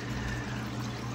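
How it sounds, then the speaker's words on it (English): Steady wash of moving water from two Jebao SDW-16 wave pumps circulating a 75-gallon reef aquarium, a constant close gurgling flow with no break. "how much water movement we get off of the pumps, which is real good water movement"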